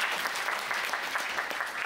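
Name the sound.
audience applause at a lecture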